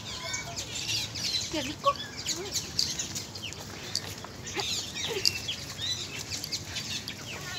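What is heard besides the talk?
small birds chirping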